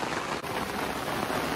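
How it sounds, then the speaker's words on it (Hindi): Monsoon rain pours steadily over a campsite near Bangalore, a dense even hiss of drops on surfaces with no voices. "बारिश हो रही है और हम लोग इतने क्या बोलते हैं स्टबन लोग हैं, छाता लेके निकल गए।"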